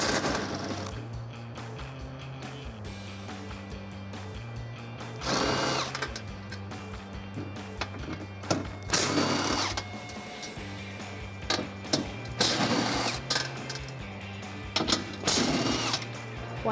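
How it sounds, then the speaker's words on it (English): Whirring bursts of a powered driver with a 13mm socket removing the four bolts from a Jeep Wrangler JL crash bar, several loud spinning runs separated by quieter ratcheting and a steady background hum, no talking. "I'm using a 13mm socket to remove the 4 bolts that are holding in the crash bar."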